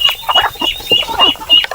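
Native chickens being fed cluck in quick, close, overlapping bursts, loud and with no talking.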